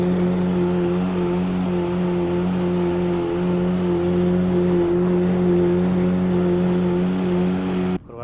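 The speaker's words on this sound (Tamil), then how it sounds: "எங்களை போட்டில் கூட்டிக்கிட்டு போகிறான்" Steady, loud drone of a motorboat engine running at sea on a squid fishing trip off Saatti, holding a constant hum for the whole stretch before cutting off abruptly at the end.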